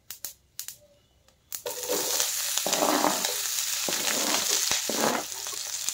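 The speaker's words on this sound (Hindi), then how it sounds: "ऑयल गर्म हो चुका है एंड ये राई।" Mustard seeds drop into hot oil in a pan after a few sharp knocks, then a loud, steady sizzle and crackle holds close by, with no talking.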